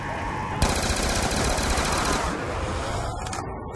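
Sustained automatic gunfire at zombies in Call of Duty Black Ops 2, a loud, rapid, continuous burst of shots that cuts off abruptly near the end.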